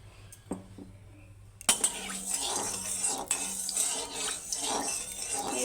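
A spoon scrapes and clinks in a kadai as spices and mashed spice paste are stirred in hot mustard oil, with sizzling beneath, steady and close after a few quiet initial taps.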